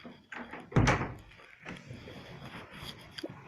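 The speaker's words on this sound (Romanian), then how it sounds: "Băi, nu se deschide ușa." A stuck door is tugged and rattled, with one heavy thump near the start followed by quieter knocks and scrapes as someone keeps working at it.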